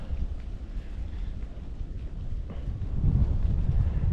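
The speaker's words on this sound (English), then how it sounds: "Nice windy day to be up in the treetops." Wind blows through the treetops on a windy mountain summit among cherry, sassafras and red maple, a constant loud rushing roar that swells toward the end, with buffeting against the microphone.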